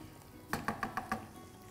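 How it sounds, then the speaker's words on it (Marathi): Rice sautéing with pink-fried onion and garlic for tomato basil risotto, a soft pan sizzle broken by five quick, evenly spaced scrapes or clinks of a spoon against the pan. "त्याच्यावरती घालायचा आहे हा राईस आणि त्याला 1 मिनिट परतूया."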